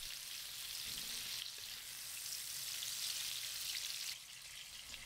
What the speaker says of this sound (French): l'huile est chaude, je mets les crevettes et 1/4 de cuillère à café de sel